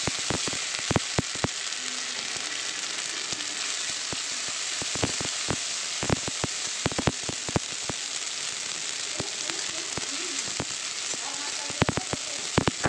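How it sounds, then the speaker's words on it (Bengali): Ginger paste frying in oil with chilli tempering in a pan, a bright close hiss of sizzling broken by frequent sharp crackles and pops spread unevenly throughout, no speech. "আদাটাকে একটু নাড়াচাড়া করে নেব"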